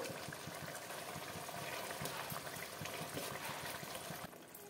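Quiet bubbling of a bata fish curry broth at a boil, soft irregular pops and gurgles over a low, steady simmer that cuts off near the end.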